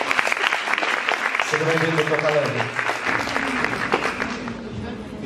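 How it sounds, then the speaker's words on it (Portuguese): Audience applause greets a guest speaker at a lecture on studying for public exams, a steady clapping that runs under a voice giving a welcome in Portuguese. "Uma salva de palmas."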